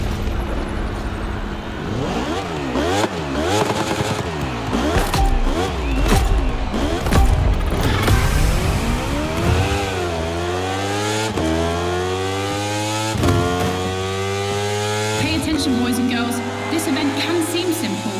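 Racing engine from The Crew Motorfest, a Red Bull Speed Clash moto race, screams loud and close, with repeated rapid revving swells that give way to long rising gear-by-gear pulls, a sustained high-pitched wail throughout.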